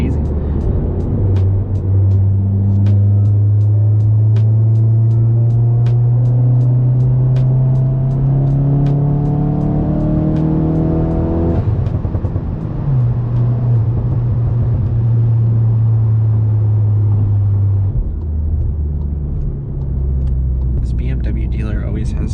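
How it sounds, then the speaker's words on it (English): A turbocharged Mk7 Volkswagen GTI engine with a Stage 2 tune revs up through the gears at night with a rising, droning note, easing off with a few crackling pops near the end; a voice speaks briefly. "some nice turbo sound and some pops and bangs from the tune"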